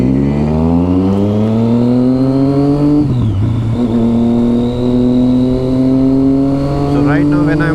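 A Triumph Street Triple motorcycle engine revs hard and close, its pitch climbing, dropping sharply, then rising again in loud, continuous pulls.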